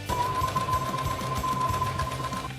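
A sewing machine runs in one continuous burst, stitching a cheap Christmas craft with a fast, steady mechanical whir and rattle, close and loud, with no talking.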